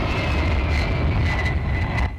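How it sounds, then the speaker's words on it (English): A helicopter in the video game Battlefield, playing a Conquest match on the Resort map, roars steadily with heavy engine noise that stays loud and close for the whole stretch. "here comes the chopper"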